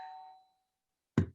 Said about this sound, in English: Was your doorbell?